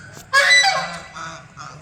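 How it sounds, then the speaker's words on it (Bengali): Large geese honk loudly and close by at a floating water temple near Nabadwip, one harsh burst of calls followed by quieter honks trailing off. "কত বড় বড় রাজহাঁস।"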